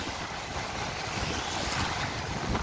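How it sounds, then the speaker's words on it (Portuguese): Strong ocean waves surge onto the beach at Arraial do Cabo, Rio de Janeiro, in June, a loud, continuous roar of surf mixed with gusting wind buffeting the microphone. "olha a onda forte"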